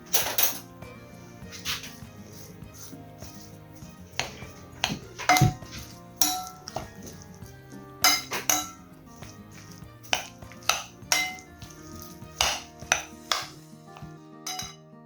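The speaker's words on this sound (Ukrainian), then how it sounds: "Додаю два яйця, розмішую." Repeated clinks and scrapes of a utensil against a bowl while two eggs are stirred in with grated zucchini for fritters, irregular bursts of clattering close by with no talking.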